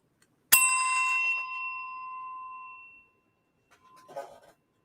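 A single bright bell ding rings out clearly and rings on for a couple of seconds before fading. A faint clatter of handling noise follows near the end.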